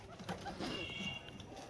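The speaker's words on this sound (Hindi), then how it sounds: "देखें माशाल्लाह सारे कबूतर बाहर आ गए हैं।" Pigeons cooing at a backyard coop with chickens kept below, soft low coos repeating near and moderately loud over a steady background hiss.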